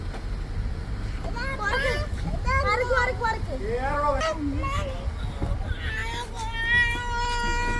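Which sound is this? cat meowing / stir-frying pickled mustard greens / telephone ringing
cat meowing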